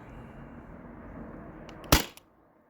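A Sabre 68 home defense launcher running on a First Strike Roscoe air adapter magazine fires a single sharp, loud shot that cuts through a steady hiss of air and then quickly fades.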